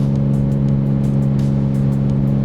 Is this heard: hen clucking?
no